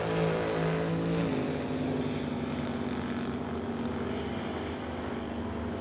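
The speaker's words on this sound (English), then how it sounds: "supercharged Rad Torque Systems top dragster, 515 cubic inch big block Chevy, providing the motivation for the dragster" Supercharged Rad Torque Systems top dragster with a 515 cubic inch big block Chevy at a drag race, a loud sustained engine roar with a steady tone that shifts pitch early on, no voices.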